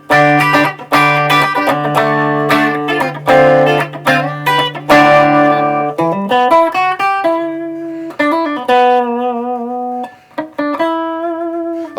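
A Washburn electric guitar played through an Orange TH30 amp with only a reverb pedal, ringing out sustained chords and then single melodic notes with some overdrive, loud and close with no talking.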